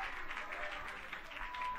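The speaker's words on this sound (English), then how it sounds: "Oh, clap your hands." A church congregation claps together in a rhythmic, moderately paced beat, faint and somewhat distant, with a soft murmur of voices underneath.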